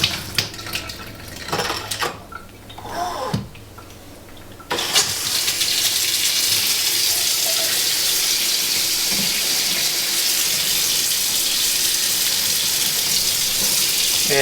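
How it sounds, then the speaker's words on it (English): Water running from a kitchen faucet through a newly installed water filter, starting after some clattering and handling noises, then a steady loud hiss and rush of flowing water that continues evenly. "the only thing to do is just to slowly turn the faucet on and see what happens"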